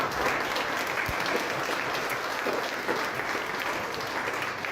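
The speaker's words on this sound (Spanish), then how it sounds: "Denle un fuerte aplauso al Señor." Church congregation applauds steadily for several seconds, a dense, even wash of clapping filling the sanctuary with no speech over it.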